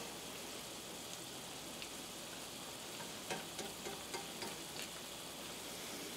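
Onions frying in a pan for lazy cabbage perogies, a soft steady sizzle and crackle with a few sharper pops and stirring scrapes in the middle, close and fairly quiet, with no talk.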